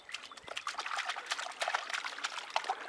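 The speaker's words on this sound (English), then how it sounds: "Are you splashing?" Water in a pool splashing and trickling in quick irregular bursts, fairly faint and close, with no talk over it.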